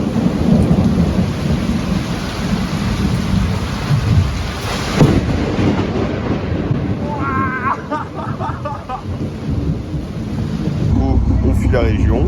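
Heavy rain pours steadily with low rumbling thunder and gusts of wind during an approaching typhoon on an island in Vietnam, and faint voices can be heard briefly toward the end.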